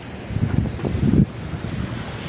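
Sea waves wash onto a quiet shore, a soft low surge that swells and falls away, with wind rumbling across the microphone.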